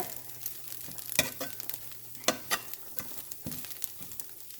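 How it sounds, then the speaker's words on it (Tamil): Tiny prawns fry in a pan with a close, crackling sizzle, spattering pops and stirring scrapes in an uneven rhythm, with no talking. "இந்த ராலை பொறிச்சு எடுக்கிறது தான் முக்கியம்"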